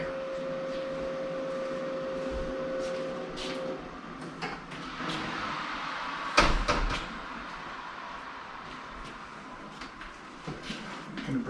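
A cooked spiral-sliced ham is taken out of a Ninja Foodi 10-in-1 air fryer oven, with the door clunking, tray scraping and one sharp knock over a low fan hum, with no talking.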